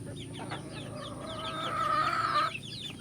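Native chickens cluck and chatter close by on a small farm, a busy overlapping flock with one drawn-out call rising near the end, over a low background hum.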